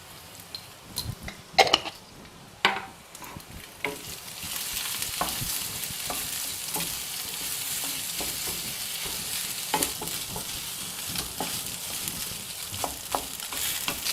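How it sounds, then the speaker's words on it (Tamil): Steady sizzling of cooked rice frying in a pan for chitrannam, with scraping and stirring knocks from a utensil, a few louder clanks near the start. "அந்த சாதம் எல்லாம் லைட்டாக ஓரளவுக்கு ஃப்ரை ஆகிற மாதிரி இருக்கணும்."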